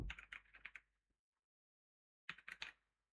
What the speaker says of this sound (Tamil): நான் சும்மா ரேண்டமா டைப் பண்றேன்.